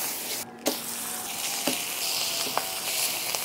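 Thick slabs of meatloaf fry in butter in a hot pan, giving a steady close sizzle with a few sharp pops and crackles scattered through.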